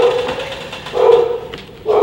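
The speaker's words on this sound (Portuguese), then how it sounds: "Mano, esse cachorro é gigante." A large pitbull barks nearby at a chalet, loud deep woofs coming in two or three bursts with short gaps between them and no talking over them.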